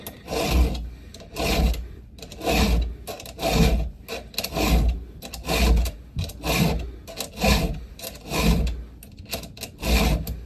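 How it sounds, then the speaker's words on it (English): A Dremel rotary tool sharpening the teeth of a chainsaw chain, a rhythmic grinding rasp repeating in steady strokes about once a second, close and fairly loud over a constant motor whine. "the Dremel tool might have to be sped up"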